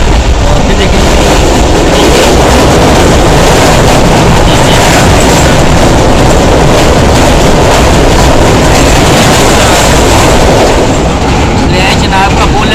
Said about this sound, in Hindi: जनाब का पुल है जिसकी वजह से इतना शोर शराबा हो रहा है